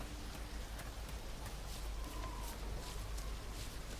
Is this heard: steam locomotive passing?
no